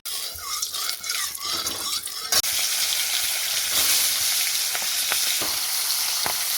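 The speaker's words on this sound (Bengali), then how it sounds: "কড়ায় দিয়ে দিলাম তেল প্রায় গরম হয়ে গেছে এবার মাছটাকে ফটোফট দিয়ে দেবো" Fish pieces drop into hot oil in a kadai and set off a loud, steady sizzle and crackle that keeps going after a brief quieter stretch of kitchen sounds.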